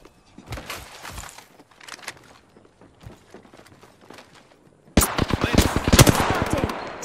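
Game gunfire from Apex Legends: scattered single shots and footsteps at first, then a loud, dense burst of rapid automatic fire close by near the end.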